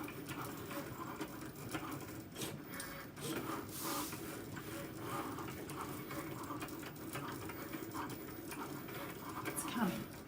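A Cricut cutting machine works through a 12 by 12 scrapbook border, its faint mechanical whirring and ticking steady and close, with occasional quiet voices underneath.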